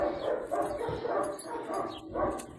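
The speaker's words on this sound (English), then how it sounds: "Here's my neighbor's dog, Django." A neighbor's dog gives several close, moderately loud barks and yips in an uneven rhythm, with short whimpering sounds between them.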